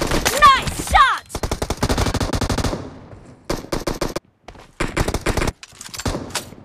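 Rapid bursts of automatic gunfire in the mobile battle royale game Battlegrounds Mobile (BGMI), loud close volleys separated by short gaps, with a brief voice callout at the start.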